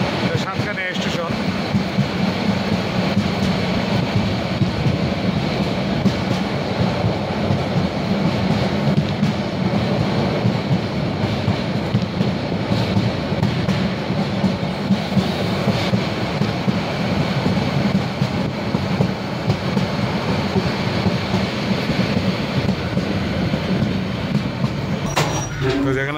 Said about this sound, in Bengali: ওই দিক থেকে কক্সবাজার এক্সপ্রেস যেটা 12:30 সাইডে আসছে